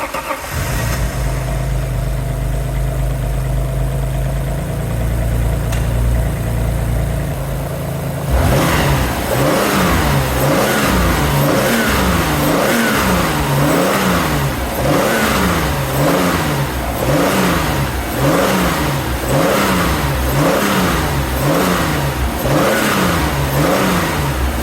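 An Alfa Romeo GT V6 with a coolant leak into the combustion chambers idles steadily, then from about eight seconds is revved repeatedly in rhythmic rising and falling bursts, loud and close with no talk.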